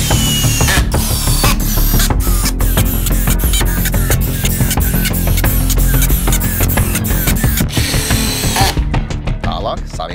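Close, loud whine of a power drill boring extra holes in a wooden wall-bar frame, running almost nonstop with rapid rattling pulses, then cutting off near the end.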